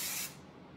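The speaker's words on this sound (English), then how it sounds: "So I'm just going to stay back and just spray a little bit." A short hiss of hairspray aimed at a woman's long layered hair, one brief burst that fades quickly into quiet, with no talking.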